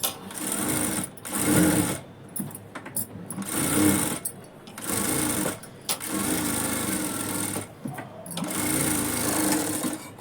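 Sewing machine running in bursts as it stitches the lining onto a blouse, a steady mechanical whir that speeds up and pauses several times over about ten seconds, close and fairly loud.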